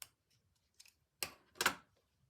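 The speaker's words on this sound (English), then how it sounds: "So I'm going to cut away a little bit more." Scissors snip through paper while trimming pieces for a collage: two distinct crisp cutting bursts, close and fairly quiet, with a few faint clicks between them and no talking.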